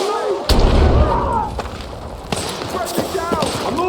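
A frag grenade detonates in the Battlefield 6 video game as one heavy, close boom with a low rumbling tail, followed by scattered gunfire and battle noise, with game voices shouting throughout.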